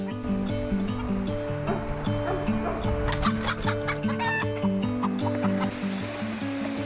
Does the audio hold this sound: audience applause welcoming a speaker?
no